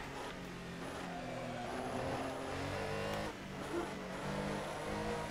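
Race car engine in a racing video game at Silverstone, revving with tonal whine that rises and drops through gear changes, steady and fairly close, with brief tire squeal and no talk.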